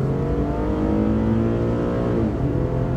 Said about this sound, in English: I'm gonna do a quick little acceleration run onto the on-ramp in sport mode